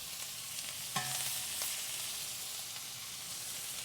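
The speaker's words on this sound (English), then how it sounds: "nothing like a sizzling griddle" A steady, crackling sizzle of shrimp frying in high-smoke-point oil on a hot Kamado Joe griddle, close and continuous, with a faint clink of a utensil.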